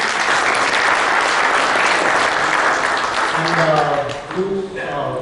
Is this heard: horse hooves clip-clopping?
no